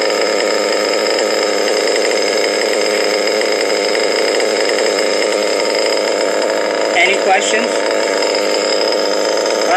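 The engine of a nearly finished 5b build runs at a steady buzzing idle, loud and close throughout, while a person speaks briefly over it.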